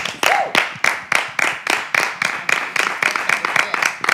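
Claps ring out in a steady, fairly slow rhythm at a concert, loud and close, sounding more like a small group or single pair of hands than a full crowd.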